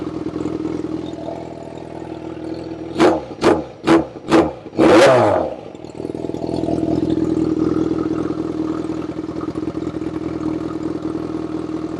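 A Yamaha FZ6R motorcycle engine idles, then is blipped four quick times in a row followed by a longer rev, before settling back to a steady idle, loud and close.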